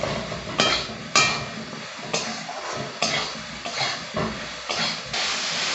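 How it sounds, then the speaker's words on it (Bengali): Eggplant slices frying in oil with salt and turmeric give a steady hiss with repeated scraping and stirring strokes at a regular rhythm, close and fairly loud. "বেগুনটা আমি লবণ, হলুদ আর তেল দিয়ে ভেজে নিচ্ছি"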